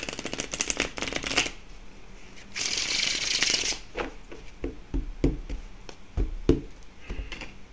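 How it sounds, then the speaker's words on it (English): A deck of playing cards is shuffled close up, giving a rapid riffling flutter, a longer ruffling burst, then a run of sharp card taps and snaps. "I'll give it another shuffle here"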